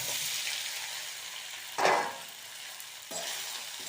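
Cut dhokla pieces dropped into a hot urad and chana dal tempering, giving a continuous soft sizzle with one louder burst of frying and a later swell, close by and without speech.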